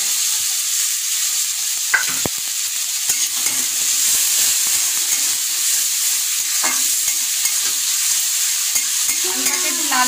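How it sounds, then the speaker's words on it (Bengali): Cut potatoes frying in a pan, a loud steady sizzle throughout with occasional clinks and scrapes of stirring, heard close up with no talk. "তো এই যে আলুগুলো এবার দিয়ে দিচ্ছি, দেখে নাও।"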